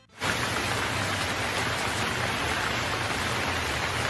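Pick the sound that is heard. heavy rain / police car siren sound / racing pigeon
heavy rain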